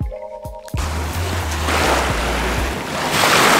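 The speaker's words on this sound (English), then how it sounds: "The sound of the water is literally so peaceful" Lake water laps and splashes beside a dock during a kayaking or paddleboarding outing, a close, steady wash with a few knocks and bumps at the start and wind buffeting the microphone.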